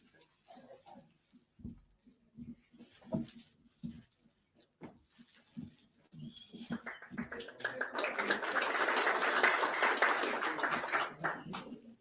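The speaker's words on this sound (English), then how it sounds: "Not sure why he got an extra round of applause." A hospital audience at Groote Schuur Hospital, gathered for a name-reading ceremony, breaks into a round of applause that swells into sustained clapping and then begins to fade, after scattered sounds and quiet talk.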